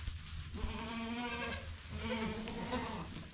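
Mother goats bleating as they come back from grazing, two long wavering calls close by, one after the other, with a faint low murmur underneath.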